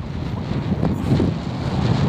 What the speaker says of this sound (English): it's become a little bit windy.